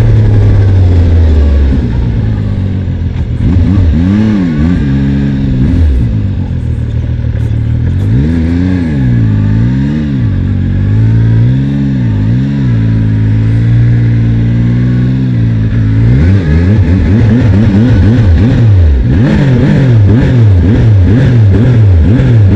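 A Zontes 703F three-cylinder motorcycle engine revs repeatedly up and down from idle, each loud, smooth blip rising and falling in pitch, with a longer sequence of quick revs near the end.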